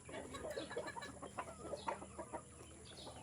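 Pet chicken eating feed, soft repeated clucks and small pecking taps close by, quiet and steady for a few seconds.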